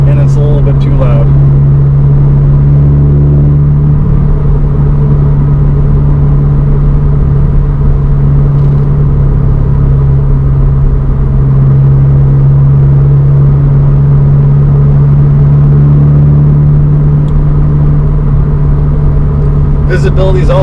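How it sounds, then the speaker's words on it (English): A 2020 Subaru BRZ Limited with a five-speed gearbox holds a loud, steady engine drone while driving, a constant revving hum with road rumble beneath. It runs continuously for the whole stretch and no one speaks. "the car is kind of revving a little bit more than I want, and it's a little bit too loud"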